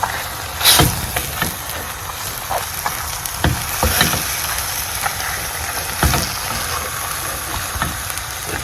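Spice blend stirred into a pot of rabbit light soup with onions, giving soft sizzling and scraping with a few sharper clicks of the spoon against the pot, steady and close, with no talking.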